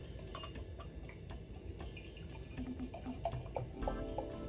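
Homebrewed oatmeal cream double stout, cold, pours from a flip-top bottle into a glass, a soft continuous splash and gurgle with small drips and glassy clinks, fairly quiet and steady.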